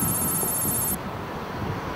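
A telephone rings with an incoming call at a police station's violent crimes desk in Busan, a single ring cutting off just before the clip's midpoint over low background noise.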